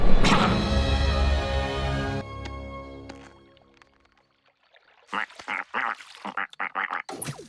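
A cartoon duck from The Ducktective, an animated detective show within Gravity Falls, quacks in a burst of loud, harmonic squawks over music, then after a short pause a quick run of nasal quacks comes close and clear.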